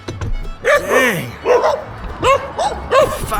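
Five dogs bark and yip in repeated bursts close by, surrounding a touring cyclist on a Kentucky road, overlapping loudly, with rustling movement in between.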